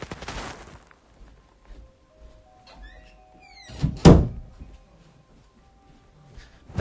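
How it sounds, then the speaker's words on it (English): A door shut indoors, one loud solid thunk near the middle after quieter scattered clatter and small squeaky noises, heard alone without talk. "That was me shutting the door, by the way."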